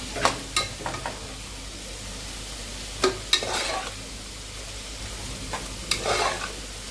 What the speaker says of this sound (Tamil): சிக்கன் எல்லாம் இதில் நல்லா தக்காளி வெங்காயத்தோடு சேர்ந்து வதங்கட்டும்